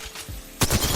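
Gunfire in Apex Legends Solo mode: a quick rattle of shots, faint at first and then a louder, close burst of rapid fire in the final half second.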